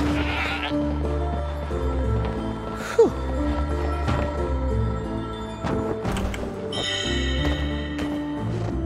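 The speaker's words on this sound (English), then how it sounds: "Oh, poor goat." A goat bleats in the video game Trine 4, several clear bleats over a layered, steady fantasy music bed, fairly close and prominent with no talking.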